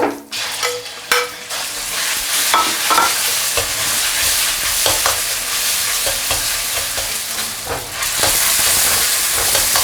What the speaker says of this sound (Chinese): 重新加入凉油，来直接下入肉丝